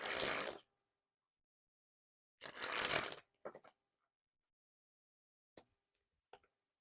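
Genesis playing cards are sprung from hand to hand in two rapid fluttering bursts of riffling card noise, close and crisp, followed by a few soft taps and clicks.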